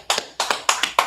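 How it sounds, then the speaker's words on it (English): A small group claps in unison at a Friday class, short sharp bursts of hand claps in a quick rhythmic pattern, close and loud, about five beats. "let's clap it up, man"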